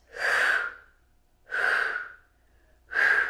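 Three forceful breath exhales during a Pilates routine, evenly spaced about a second and a half apart, each a loud breathy whoosh with short quiet gaps between.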